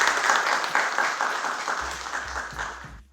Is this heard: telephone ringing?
no